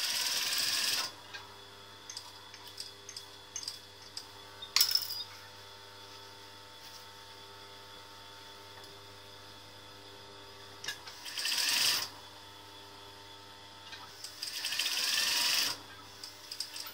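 A sewing machine stitches a fabric pouch with a 1 cm seam, running in several short bursts separated by quiet pauses and faint handling.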